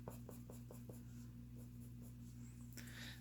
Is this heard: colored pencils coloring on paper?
yes